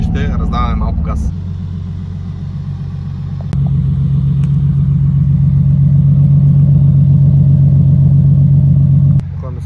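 A Nissan 350Z's engine rumbles low and steady while driving, rising in level partway through as the car pulls harder, with a short burst of talk at the start.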